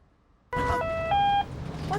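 A medical pump failure alarm inside an ambulance sounds as a sudden electronic tonal beep sequence, stepping between pitches, close and clear over low vehicle rumble.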